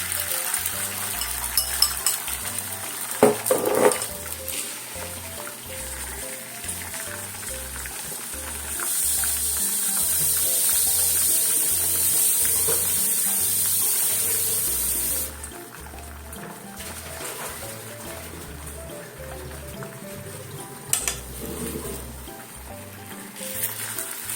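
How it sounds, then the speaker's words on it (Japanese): Steady sizzle of eggs frying in a pan, rising to a bright hiss in the middle, with light clinks of cookware scattered throughout. "はい、卵焼いてきますね。"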